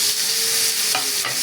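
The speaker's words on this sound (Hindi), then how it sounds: "ये बघार का प्रोसीजर दिखा रही हूँ आप लोगों को।" Curry leaves sizzle in hot oil as a tempering for Hyderabadi imli ka khatta, a loud continuous close-up crackle and hiss with a couple of sharper pops, no voices.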